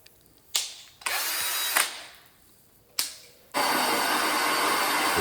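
Core drill boring into porcelain tile, first at low speed: two short whirring bursts, then a steady grinding run, then a louder continuous high-speed drilling roar, close and with no talk.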